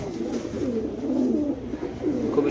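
King pigeons cooing on a pigeon farm, a steady overlapping low coo that continues throughout at moderate loudness, with no talking.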